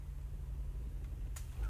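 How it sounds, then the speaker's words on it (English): A tank engine in the video game Project Reality gives a steady, deep rumble with a faint, brief click near the end. "I hear some armor east. What, you here? Yep, it's definitely a tank."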